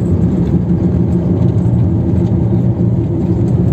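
Inside a car on a rainy, murky day, the engine and road noise give a loud, steady low rumble and whir throughout, without speech.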